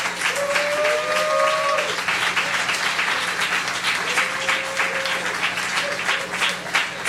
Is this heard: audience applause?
yes